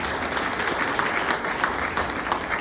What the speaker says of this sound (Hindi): एक शानदार ताली इस मैनेजमेंट के लिए।